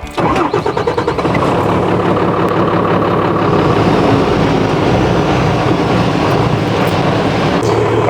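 A 12-valve Cummins diesel in a Squarebody truck cranks and catches, then settles into a loud, steady, rumbling idle heard up close, with no talking.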